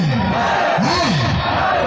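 Rally crowd at a street-corner political speech in Rohtas, Bihar, shouting back a loud collective reply, a dense swell of many voices over steady outdoor crowd noise.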